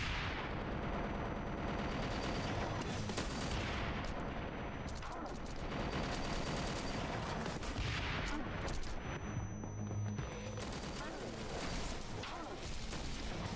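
Gunfire in the action video game Wanted: Dead, with repeated bursts and shots echoing over a busy, dense game soundscape with booming impacts, fairly loud and continuous.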